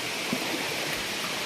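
Penchalakona waterfalls roar as a continuous, dense rush of falling water, close and steady with no voices.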